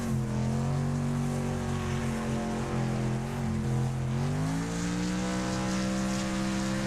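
Race car engines roar continuously in Wreckfest, sustained high-revving tones with shifting pitch as the cars drive flat out, loud and steady with no talk.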